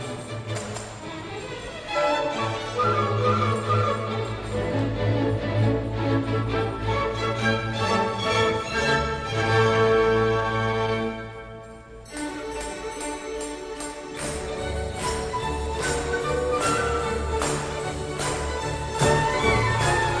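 A Neapolitan tarantella plays as a continuous, lively instrumental piece with full harmony and a steady beat, dropping briefly around the middle before resuming at similar strength.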